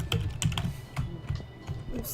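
Clattering keystrokes on a computer keyboard during a comic book store simulator game, a quick run of close clicks and taps repeated across about two seconds.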